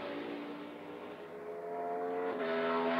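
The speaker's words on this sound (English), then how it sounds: "Did you hear how much different that car was popping and crackling getting into the corner with the Ford versus some of these other cars?" A Ford NASCAR Cup Series race car engine roars through a qualifying lap, its note holding steady and building louder toward the end, with exhaust popping and crackling as it goes into the corner.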